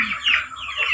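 Chickens cluck and squawk close by in a brief burst of overlapping bird calls, with no talk.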